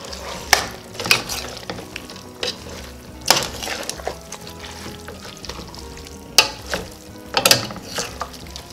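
Celery, onion and scallion are stirred into a frying Trinidad-style chicken pelau, giving a steady close sizzle broken by repeated sharp spoon scrapes against the pot, with no talking.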